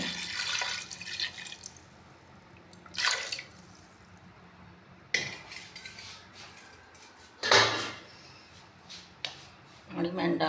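Water splashes and pours into a metal pressure cooker pot in a few short bursts while making a chicken and tinda curry, with clanks of cookware and a voice talking in between.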